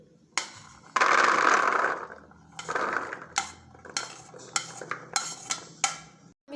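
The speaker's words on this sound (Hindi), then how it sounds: "सबसे पहले हम लोग डालेंगे चने" Chickpeas poured into a mixing bowl while fruit chaat is prepared, heard as a long rattling pour followed by several short clinking, scraping knocks of utensils against the bowl, close and alone with no talking.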